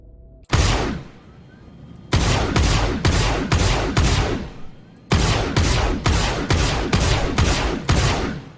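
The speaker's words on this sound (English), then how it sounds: "they've actually been making changes to the sounds of some of the weapons on the ships" Ship weapons in the space game Star Citizen fire in loud, close bursts: one long volley, then a rapid string of sharp repeated shots, a pause, and another fast run of blasts with booming low ends.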